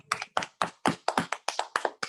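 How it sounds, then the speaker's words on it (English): An audience applauds after a story is read on a typewriter-story show, a short burst of hand clapping with a quick, even rhythm of distinct claps, moderately close and fairly soft, with no talk over it. "Can we give Piper a round of applause for that wonderful story she submitted?"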